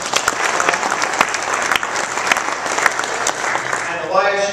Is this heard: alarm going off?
no